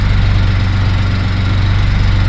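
A 1973 Triumph TR6 engine with a small exhaust leak runs steadily at a low idle. It makes a continuous deep, throbbing hum with an even pulse, close and loud throughout.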